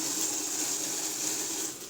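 Water pours steadily from a tap into a pot being filled for pasta, a continuous close rushing gush that eases off slightly at the end.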